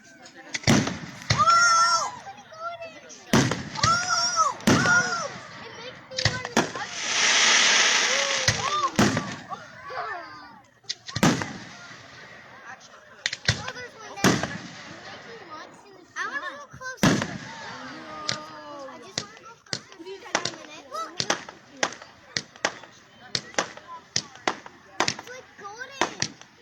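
Fireworks exploding outdoors at the Smoky Lake fireworks show in 2022: a long run of sharp, loud booms and crackling bursts at irregular intervals, some clustered close together, while people chat nearby.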